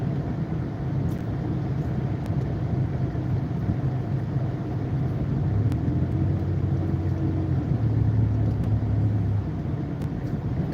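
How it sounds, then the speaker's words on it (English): Heavy rush hour road traffic heard from inside a moving car is a constant low rumble of engines and tyres with a broad road roar that swells slightly partway through. "this is a great example of rush hour traffic"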